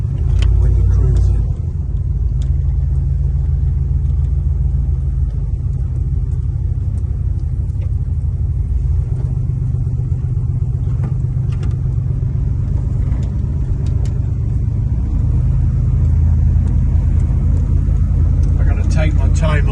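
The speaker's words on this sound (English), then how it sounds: "So let's go for a little ride here." A 1965 Chevrolet El Camino cruises along residential streets, its engine a steady deep rumble heard from inside the cab, loud and continuous, with someone talking over it.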